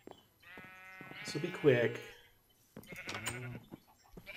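Minecraft cows lowing in a drawn-out, bleating tone, close and fairly loud, with someone talking briefly before and after the calls.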